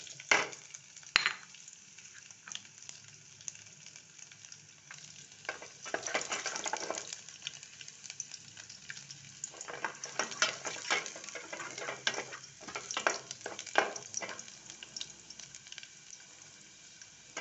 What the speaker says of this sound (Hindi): ये बघार ही है, बल्कि लहसुन मिर्चें और ये ज़ीरा मेथी दाना ये इकट्ठे डाल